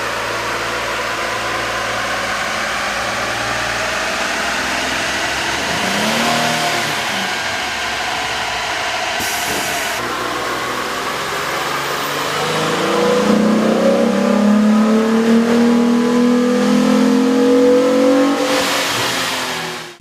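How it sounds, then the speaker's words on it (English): Jeep Wrangler 3.8-liter engine with a K&N air intake revs on a dyno, idling then climbing through several rising rev sweeps, loud and close, ending in a sustained high-rpm pull before cutting off. "we ran the vehicle on the dyno to test the sound comparison versus the stock intake"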